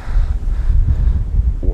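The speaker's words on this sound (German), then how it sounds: "übertreib jetzt mit dem Wind" Strong wind blows on New Year's Day, buffeting the microphone with a loud, uneven rumbling roar that surges and dips throughout.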